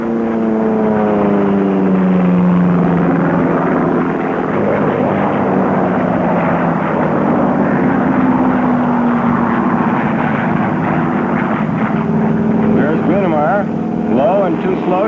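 Racing airplanes at the 1970 Reno air races roar past in a loud, sustained propeller drone with rising and falling pitch as they sweep by, and a commentator talks throughout.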